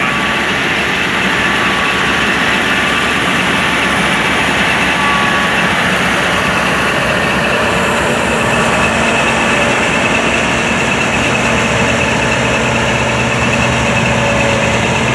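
A tractor-driven mulcher runs steadily throughout, a loud continuous engine drone with grinding rumble and vibration, no pauses and no talk.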